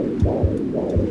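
A deep, muffled heartbeat from the game Dear Esther thumps in a steady lub-dub rhythm, low and throbbing with a soft washy background.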